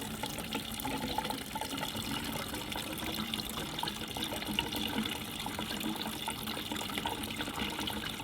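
Water gushes steadily from a pipe into a bucket in a garage, a continuous, moderately quiet splashing flow with no talk.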